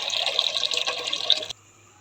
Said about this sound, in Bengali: জল নিয়ে নিই বেশি করে